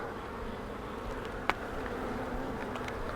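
Honey bees buzz steadily on a hive frame, a continuous soft drone with a single sharp tap partway through, no talking.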